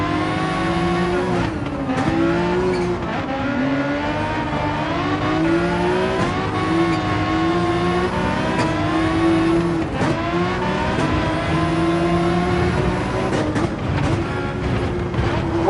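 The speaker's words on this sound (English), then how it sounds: "Oh yeah, that's some nice turbocharge right there." A turbocharged race car lapping the Nürburgring Nordschleife in Gran Turismo 7, its engine roaring loud and close with repeated rev climbs, gear shifts and a whistling turbo, running without pause.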